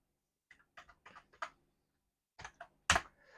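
Short bursts of typing on a computer keyboard as a formula is entered in Microsoft Word, a few close, crisp key clicks, a pause, then a final heavier keystroke like an Enter press, with no one talking.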